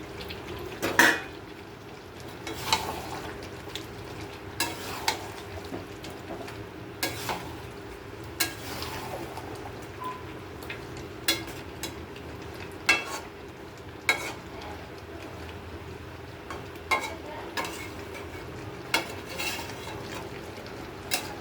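Potatoes fry in a pan and are stirred repeatedly, a utensil clinking against the metal at regular intervals over a continuous soft sizzle.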